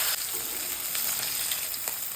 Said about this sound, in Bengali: মাছ ভাজা উল্টাচ্ছি।